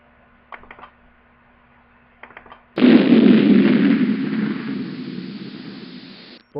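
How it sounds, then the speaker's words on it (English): A car bursts into flames in the video game Uninvited, a sudden loud explosion followed by a roaring, slowly fading burn, with a few faint clicks before it. "there's a mighty explosion behind you as your car bursts into flames"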